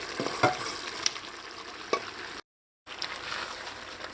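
Pre-cooked pasta added to a sauce for Louisiana chicken pasta and stirred in the pan, a soft steady sizzle with a few scraping and tapping stirs, then a brief gap of silence, no talk.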